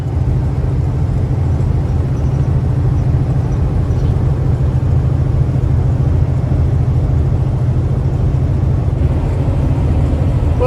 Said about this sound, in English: It's loud. We're in the truck. We're cruising.